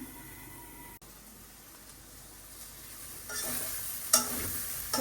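Bitter gourd (karela) fries in a pan in a home kitchen. A faint, quiet sizzle grows a little louder partway through, with a few soft stirring clinks.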